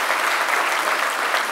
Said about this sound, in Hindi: ताली बजा करके साइंटिस्ट को।